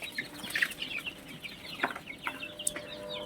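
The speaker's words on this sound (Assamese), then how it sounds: "এইখিনি মোৰ পোৱালি ডাঙৰ হৈ গৈছে প্ৰায়।" Chicks that have grown fairly large, peeping with high, short chirps in scattered bursts, soft and close, with faint background noise and no talking.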